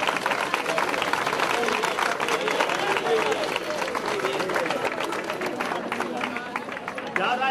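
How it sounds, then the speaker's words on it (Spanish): A festival audience at the 2012 Almedina fiestas applauds a rondalla, sustained dense clapping with crowd chatter and voices layered over it throughout. "Un aplauso de todos y esta canción para vosotros."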